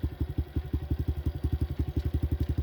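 A Honda Trail motorcycle's single-cylinder engine idles close by with a steady, rapid chugging pulse, running alone without speech.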